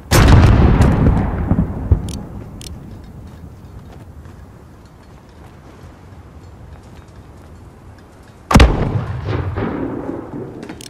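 Heavy mortar and artillery blasts in a Call of Duty: Modern Warfare battle, a loud booming impact at the start with a rumbling tail, then another sharp explosion near the end over dull rolling battlefield noise.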